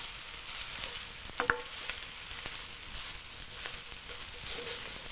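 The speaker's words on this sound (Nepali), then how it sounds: "यसलाई रातो हुने गरेर भुट्नुपर्छ" Aloo bodi tama ingredients of potato, bamboo shoot and black-eyed peas sizzle steadily in a pan while being stirred, with a few sharp scraping clicks of the spoon near the middle.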